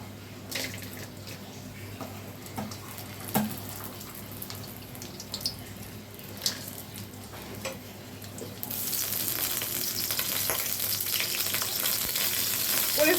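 Cashews and raisins fry in hot ghee in a pan, a soft steady sizzle with occasional spatula scrapes and clinks, the sizzling swelling louder and brighter toward the end.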